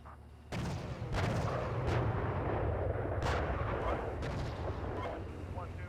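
Video game gunfire and artillery: heavy booming shots and sharp cracks hit over a constant rumbling battle bed, a few distinct blasts standing out from the sustained loud din.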